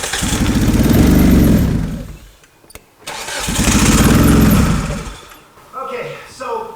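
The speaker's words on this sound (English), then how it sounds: "try a clear flood mode by holding the gas pedal down and cranking the engine" A car with multiple check engine codes, its gas pedal held to the floor in clear flood mode, cranks loudly and close up in two long, steady bursts without starting. A short pause separates them, and quieter mechanical noise follows.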